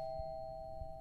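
A steady electronic doorbell tone rings continuously, with a couple of soft low thumps underneath.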